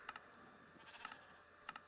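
Faint bleats from sheep on a farm in Minecraft Bedrock, three short game-sound calls spaced across the stretch with quiet clicking between them and no talk.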